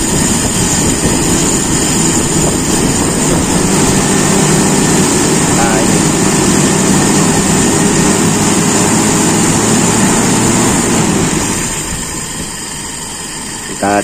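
A motorcycle engine idles steadily and loudly at close range during a carburetor idle-jet test, with a dense continuous drone that drops slightly in level near the end.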